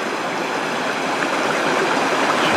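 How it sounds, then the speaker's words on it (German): A stream flows along a park in Bad Harzburg, a steady close rush and babble of water filling the whole stretch at even loudness with no talking. "Auch hier weiter entlang des Parks der Wasserlauf noch mal so schön."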